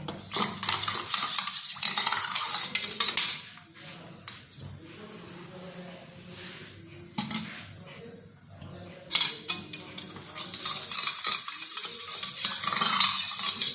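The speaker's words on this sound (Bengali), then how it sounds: "আমি কিন্তু এই জলটার মধ্যে আরও 1 চামচ মতন ময়দা দিয়ে দিচ্ছি, দিয়ে একটা পাতলা স্লারি করে নেব" Flour being stirred into water in a bowl for a thin slurry, a spoon scraping and clinking steadily in bursts, with a brief quieter stretch midway.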